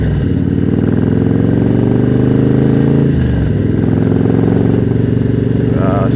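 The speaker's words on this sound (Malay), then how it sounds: "Hari ni kita nak panas enjin kejap." Harley-Davidson Road Glide engine warming up at idle, a loud, close, deep rumbling throb with a slight rise and dip in revs midway.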